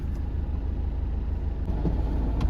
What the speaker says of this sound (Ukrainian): Машини там проїжджають плюс-мінус.